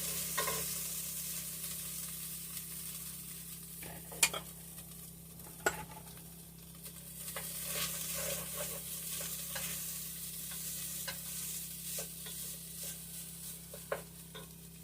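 Already-cooked ground beef for beef stroganoff heating in a pan, a low continuous sizzle with occasional scrapes and knocks of a spoon stirring, fairly quiet and close.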